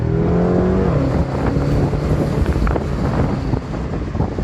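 A 2018 BMW M6 launches and accelerates, a loud low engine roar with rising harmonic tones at first, mixed with heavy wind buffeting across the recording.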